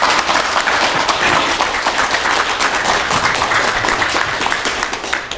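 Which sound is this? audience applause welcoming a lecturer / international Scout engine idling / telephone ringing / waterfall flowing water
audience applause welcoming a lecturer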